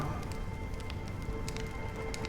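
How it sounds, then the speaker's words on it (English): Steady rainfall in the video game Honkai Star Rail, a dense continuous patter with scattered louder droplet ticks, alone without speech. "When will this rain ever stop?"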